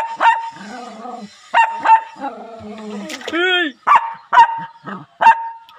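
A small dog yaps in short, sharp bursts, several loud nearby barks spaced through the moment, with a whine between them while someone speaks over it.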